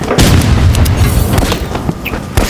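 Gunfire in the Rivals video game: a rapid string of loud, close booming shots and impacts that keeps going throughout, with no talk over it.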